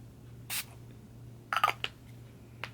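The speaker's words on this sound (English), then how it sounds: "I'm going to be using my spray to set everything. So I'm just going to spray like a little bit." Rose primer makeup setting spray is misted onto the face in a quiet room, one short hiss followed a second later by a quick cluster of two or three more bursts and a final faint puff.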